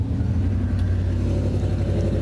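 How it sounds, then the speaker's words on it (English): A rough, grumbling mechanical rumble runs steadily throughout, loud and close, as an old direct-drive starter motor cranks a Mazda Protege engine without pause. "it just sounds old and kind of grumbly and rough"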